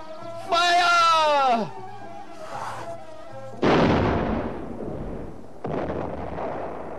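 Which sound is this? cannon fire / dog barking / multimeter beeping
cannon fire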